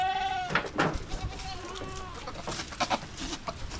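Goats bleat repeatedly and close by in a Jamaican village where they are raised for sale, several harmonic calls overlapping in quick succession with rustling around them.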